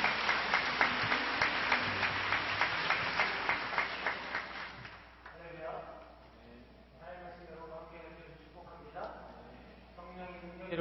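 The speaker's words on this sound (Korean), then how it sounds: "큰 박수로 축복해 주시고 환영해 주셨으면 좋겠습니다" A church congregation claps rhythmically in unison to welcome a pastor, steady regular beats for about five seconds before fading, followed by someone speaking over a quiet room.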